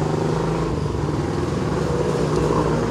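Yamaha YTX 125 motorcycle engine idling on choke during a cold start, a steady close single-cylinder putter with constant loudness throughout.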